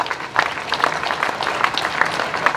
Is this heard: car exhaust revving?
no